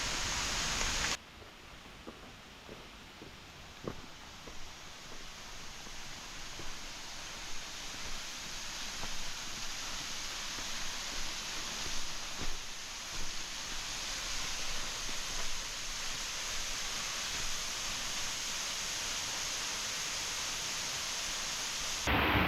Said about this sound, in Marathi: मला इथून धबधब्याचा आवाज ऐकायला येतो